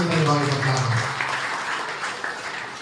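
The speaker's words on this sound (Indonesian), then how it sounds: "Tepuk tangan untuk kemajuan kuil kita di bawah sekarang." Audience applause at a Hindu temple ceremony, with clapping from a crowd that starts over a fading voice and then continues alone at a moderate level.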